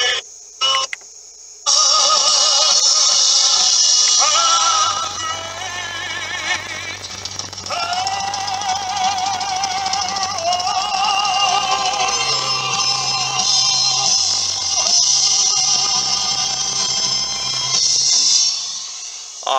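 Loud music with boosted bass plays through the factory Pioneer stereo inside a 2012 Scion xB cabin, a steady full mix with deep low end running continuously after a brief quiet start.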